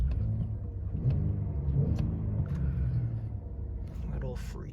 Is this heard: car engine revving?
yes